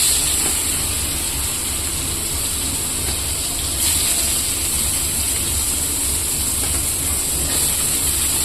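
Soybean chunks fry in oil left over from frying potatoes, giving a loud, steady hissing sizzle that continues without a break and has no talking over it.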